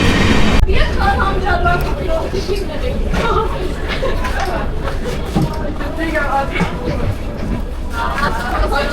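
The steady rumble and rattle of a moving airport train car fills the space in Seoul, with people talking nearby over the constant noise.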